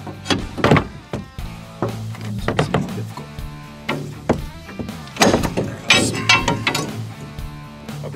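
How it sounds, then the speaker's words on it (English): Metal prying and clunking as a Polaris RZR UTV axle cup is levered out of the differential, a series of close, irregular knocks and scrapes with brief voices in between. "we're gonna pry on the back side of the cup at the diff and try to get it out of there"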